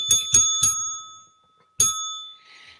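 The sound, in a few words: desk bell ringing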